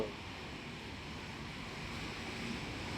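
Steady cool outdoor wind rushing past the microphone along a wide roadside footpath lined with trees, a continuous broadband whoosh of even loudness with no voices.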